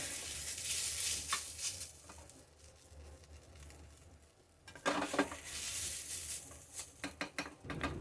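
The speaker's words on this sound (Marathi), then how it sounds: "कांद्याला चांगला लाल रंग येईपर्यंत भाजून घ्यायचा।" Onions roasting in a pan until deep red, frying with a steady sizzle as a spoon stirs and scrapes the metal, the sizzling surging louder after a quieter stretch.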